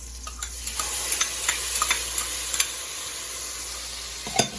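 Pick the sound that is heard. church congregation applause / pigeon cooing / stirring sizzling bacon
stirring sizzling bacon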